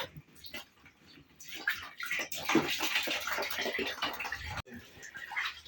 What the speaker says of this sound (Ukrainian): Потім це зливається сік.